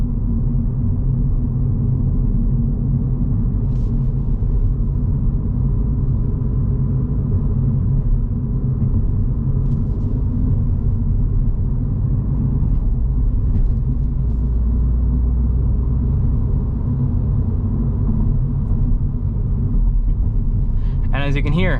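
Cabin of a 2025 Mini Cooper S on summer tires rounding bends, with a steady low road and tire rumble filling the interior and a faint engine hum underneath, no talk.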